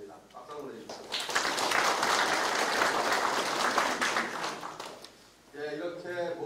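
An audience at a farming education session in Icheon breaks into sustained applause lasting several seconds, dense and even, with a voice talking before it begins and again after it fades.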